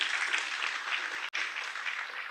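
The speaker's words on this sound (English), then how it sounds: "We give an applause to Professor O'Neill." A conference audience applauds a professor after a talk, a dense, steady wash of clapping from many hands that carries on evenly with one brief cut.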